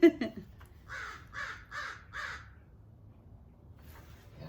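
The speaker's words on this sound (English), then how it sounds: "So we got an angry crow." An agitated crow gives four loud, harsh caws in an even row, close by, after a brief voice at the start.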